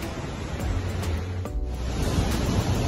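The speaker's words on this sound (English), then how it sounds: "I hope you can see the waterfall behind us." Steady broadband water roar from a waterfall heard nearby on the Sarapiqui river in Costa Rica, continuous with some wind noise over the microphone.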